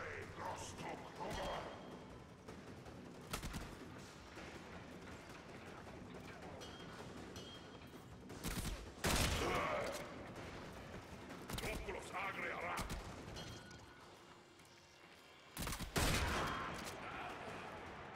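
A gun fires in the video game Warframe in sporadic bursts of sharp shots and thumps, some single and some clustered, under ongoing talk and game ambience at moderate loudness.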